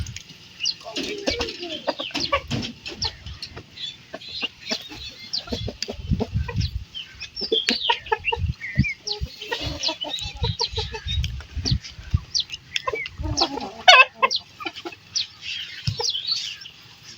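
Chickens cluck and chatter continuously in a village yard, with busy overlapping calls, occasional louder squawks and a flutter of wings, heard fairly close.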